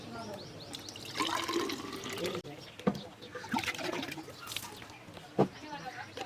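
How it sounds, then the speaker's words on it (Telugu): Water splashes and trickles as bamboo tubes are rinsed outdoors in a village cooking setting, with a few knocks of the hollow tubes, while a person talks over it. "ఈ బొంగులు మంచిగా నీళ్ళతో కడుక్కుందాం"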